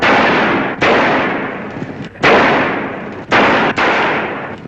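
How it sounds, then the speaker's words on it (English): Gunfire from a comedy scene, heard as several loud, dense bursts of shooting that each cut off sharply, with short gaps between them and no talk over it. "Sound like shooting?"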